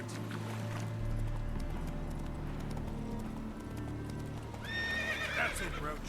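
Hooves of Roach, Geralt's horse in The Witcher 3, clip-clop at a gallop through the whole stretch. Near the end comes a loud, clear neigh, with the game's ambient sound running underneath.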